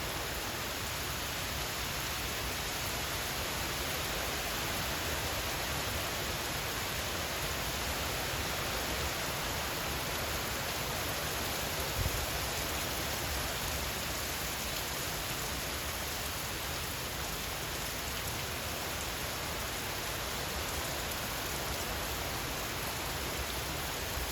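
Heavy rain from Hurricane Melissa in St. Elizabeth, Jamaica, roars steadily as an unbroken, dense hiss for over twenty seconds, with no voices.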